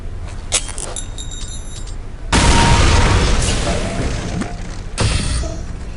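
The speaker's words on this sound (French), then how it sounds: "lancez la grenade sur la cible" A grenade thrown at a target explodes in the Counter-Strike video game: a loud, deep boom that rumbles and decays, then a second, shorter blast a few seconds later.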